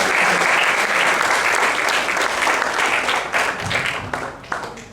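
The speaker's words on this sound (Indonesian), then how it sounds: "kita berikan tepukan yang meriah untuk Bang Faisal." Loud, continuous applause from an audience at a university memorial lecture on national consensus, held at Paramadina, a full round of clapping that thins slightly toward the end.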